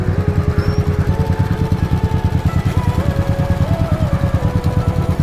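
A motorcycle engine idling close by, a loud, steady rapid thumping pulse with a faint higher whine drifting above it, running throughout with no break.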